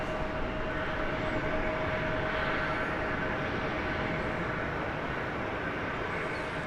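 Airliner arriving from Minneapolis-St. Paul at DFW Airport, a steady broad engine roar that holds at an even level throughout with a faint thin tone running through it, no voices.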